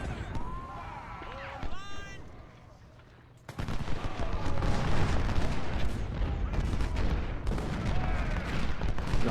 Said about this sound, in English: The artillery making good work here.